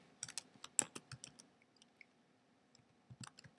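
Someone types on a computer keyboard at close range with quiet, uneven bursts of soft key taps separated by short pauses, and no one speaks.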